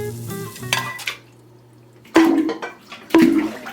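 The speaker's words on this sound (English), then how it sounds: "Then I started cooking it with a frying pan." Metal frying pan striking a small LEGO rowboat, two sharp clanging hits with ringing decay, preceded by softer scraping and clattering of pan and bricks.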